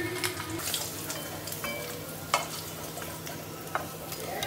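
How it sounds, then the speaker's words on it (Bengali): Whole spices sizzling in oil for a tempering, a continuous bright hiss close by with occasional spoon scrapes and clinks against the pan. "এবার ফোড়ন দিয়ে বসিয়ে দেবো রান্নাটা।"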